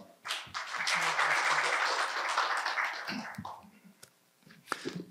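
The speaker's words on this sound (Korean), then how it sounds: "큰 박수 부탁드리겠습니다." An audience at an economic forum on night tourism claps to welcome a city mayor, a short burst of applause that swells quickly, fades after about three seconds and leaves scattered room noise.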